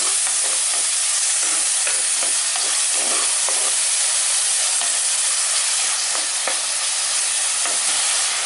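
Onion, garlic and tomato sizzle loudly and steadily as they are sautéed in a clay pot. Soft stirring scrapes recur throughout the continuous frying hiss, with no speech.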